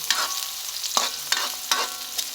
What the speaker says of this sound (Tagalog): Next natin yung sibuyas. Madali lang to guys. Gigisa lang natin.